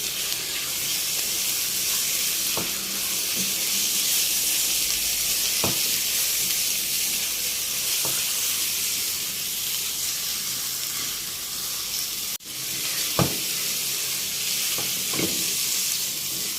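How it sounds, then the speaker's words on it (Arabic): Beef pieces frying with onions in a pan for a Turkish-style meat and pea tagine, a loud steady sizzle with occasional scrapes and clinks of stirring, close and without talk. "هبتدي انزل بقطع اللحمه بتاعتي"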